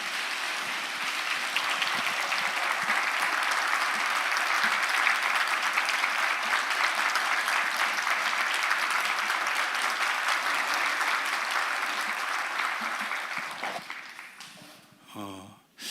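A church congregation at a revival service gives the pastor a long round of applause in encouragement, sustained and even for many seconds before dying away near the end.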